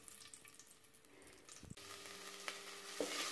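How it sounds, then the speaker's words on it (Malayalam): Ginger and garlic sauté in a pan with a soft, steady sizzle that grows louder partway through, with a few light clinks of a utensil and no speech. "ഇഞ്ചിയും വെളുത്തുള്ളിയും വഴണ്ട് വന്നിട്ടുണ്ട്"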